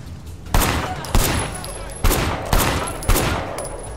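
Gunfire in Sleeping Dogs during the Nightmare in North Point DLC: five or six loud, close shots crack out in irregular bursts over a low background hum.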